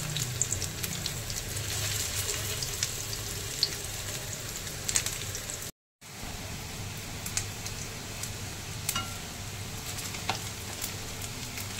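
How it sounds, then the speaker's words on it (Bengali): Fish roe fritters frying in oil make a continuous dense sizzle with scattered pops and crackles, close and steady, broken by one very short cut of silence midway. "দেখো দুপাশটাই বেশ ভালো করে লাল লাল করে ভাজা হয়ে গেছে, তবু আরেকটু উল্টে দিচ্ছি"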